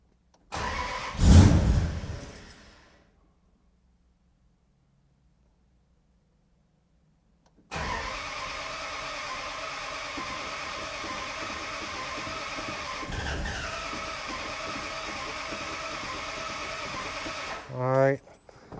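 A 1971 Plymouth Road Runner V8 gives a short burst near the start, goes silent, then starts and runs at a steady idle for about ten seconds, with a brief rev near the end.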